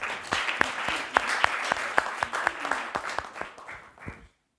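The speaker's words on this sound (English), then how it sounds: "let's give a big applause to Dimitri" Audience applause for a presenter at a systemic risk conference, thin and close, made of distinct individual claps in a steady patter that tapers off after about four seconds.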